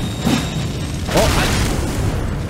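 Two deep, muffled booms go off a second apart within dense Elden Ring game ambience, with a rumbling rush after each explosion.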